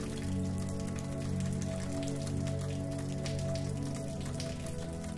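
Rain falls steadily in a village among trees, a soft, continuous patter of drops over a low, even wash of sound, quiet and unbroken.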